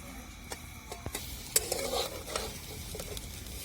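Drumstick pieces are stir-fried in masala in a pan, a close sizzle broken by several scraping, clattering stirs, louder in the middle, with no talking.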